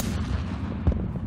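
A tank cannon fires once in Total Tank Simulator, a sharp, heavy boom with a low rumbling tail, near and loud over steady engine drone.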